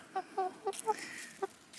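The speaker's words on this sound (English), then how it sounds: "this one is definitely a cockerel" A young cockerel gives several short clucking calls in an uneven rhythm, fairly close and clear against a quiet background.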